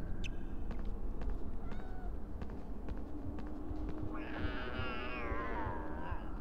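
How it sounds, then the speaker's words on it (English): A cat meows in the Harry Potter and the Philosopher's Stone video game, one drawn-out cry rising late over steady game ambience and faint footsteps, fairly quiet. "I don't want to be seen by the cat."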